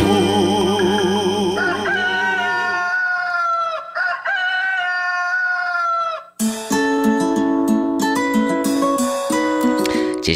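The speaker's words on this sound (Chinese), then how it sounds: "你刚听到鸡叫哈" A rooster crowing in a drawn-out, wavering call inside a song, followed by layered music with bright tones and beats.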